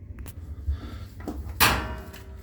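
A Maytag dryer door is lifted off its hinges and removed, giving a few soft knocks and then one sharp clunk of metal near the end, heard up close over a low hum.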